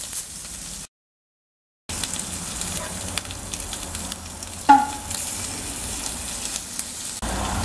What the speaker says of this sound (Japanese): ベーコンがこんな感じで 焼けてきましたので